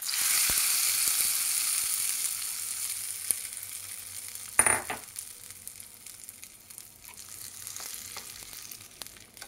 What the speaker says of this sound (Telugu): ఇప్పుడు పోపు పెడుతున్నాను అనమాట